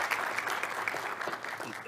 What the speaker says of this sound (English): so I want to give him a round of applause.